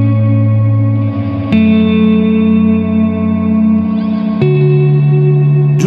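Sustained guitar chords processed with reverb and an oscillator effect swell into a deep, thick, echoing tone, changing pitch twice with sharp pick attacks, loud and alone with no talking.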